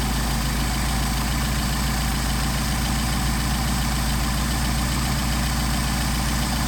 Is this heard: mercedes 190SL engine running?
yes